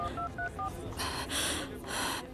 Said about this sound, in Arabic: فيني استخدم التليفون؟